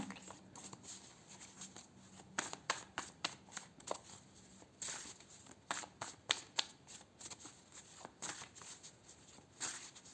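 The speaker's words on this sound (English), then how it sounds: "I am going to pull some lifestyle and health cards for you as well." Tarot cards shuffled by hand for a reading, giving close, fairly quiet bursts of riffling and flicking card slaps in an uneven rhythm.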